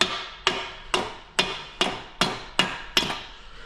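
Eight sharp metallic hammer taps strike at a steady, even pace, tapping out the yoke of a GM 10-bolt front axle, each ringing briefly before the next blow, close and loud with no talking.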